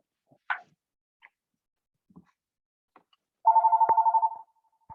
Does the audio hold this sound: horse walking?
no